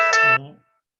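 A mobile phone ringtone gives one short, bright tonal chime that cuts off and fades within half a second, loud and close in a quiet room.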